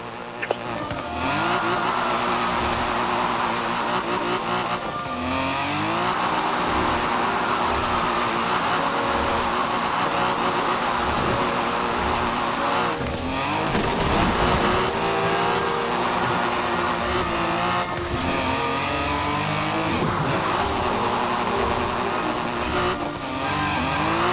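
A car driving and drifting in the video game Forza Horizon 4, its engine revving up and down in repeated sweeps as the car shifts gears, with a steady loud drone and brief tire noise throughout.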